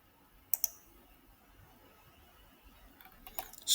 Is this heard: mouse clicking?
yes